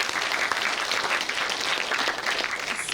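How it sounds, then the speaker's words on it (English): Sustained audience applause at the 2019 45th Parallel Film Fest awards ceremony, a dense, even wash of many hands clapping throughout at steady loudness. "Oh yeah, clap for that, sorry."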